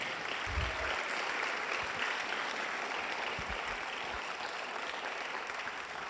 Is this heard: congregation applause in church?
yes